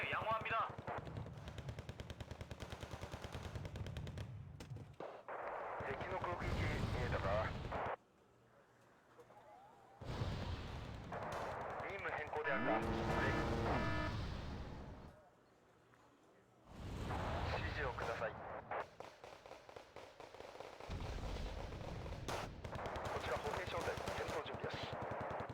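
In the war game Wargame: Red Dragon, mortar and artillery fire mixes with rattling bursts of gunfire in long loud stretches, broken by short quieter gaps.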